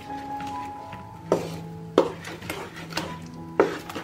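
A spoon stirs ground tomatoes in a pan on the stove, giving scraping knocks against the pan at irregular intervals over a quiet background hum.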